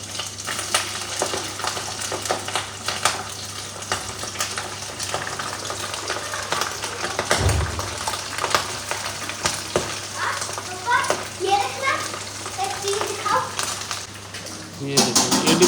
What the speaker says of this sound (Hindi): ऑयल मैंने डाला है और इसको मैं अंदर चिकन फ्राई कर लेते हैं ऐसे करके